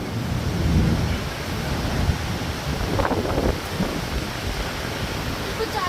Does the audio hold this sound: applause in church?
no